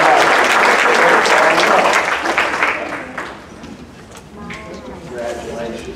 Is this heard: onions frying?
no